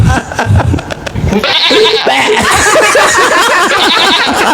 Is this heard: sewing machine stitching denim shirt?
no